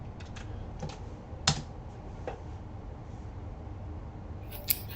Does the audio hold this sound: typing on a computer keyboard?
yes